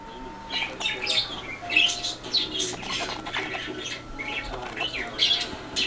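Pet parakeets squawk and chirp repeatedly close by, a busy stream of sharp, overlapping calls with occasional wing flutters, while someone speaks softly now and then.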